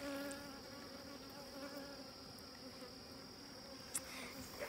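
Honeybees at an opened hive keep up a continuous, even, fairly quiet buzzing drone, with an occasional louder bee passing close.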